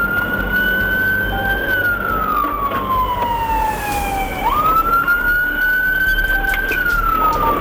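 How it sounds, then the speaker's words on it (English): Police car siren wailing during a high-speed highway pursuit, a loud sweeping tone rising and falling over road and engine noise, close and continuous. "prompting McGuigan to activate his emergency lights and siren"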